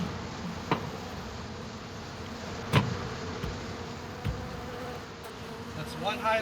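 Bees buzz around a hive treated with delta dust insecticide, a faint steady drone close by. A few sharp clicks and knocks break in, and there is no talking.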